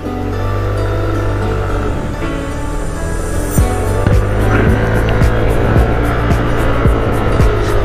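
A motorcycle engine revs and pulls hard on a ride, a steady close drone swelling into louder surges with sharp bumps and wind rush; no one speaks.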